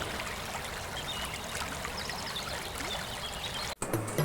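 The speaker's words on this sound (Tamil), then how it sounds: "இந்த தொட்டியிலேருந்து தான் தண்ணீர் வருது." Water runs steadily from an old stone tank at a centuries-old temple, a continuous trickling, splashing stream heard close and alone, ending in a brief bump near the end.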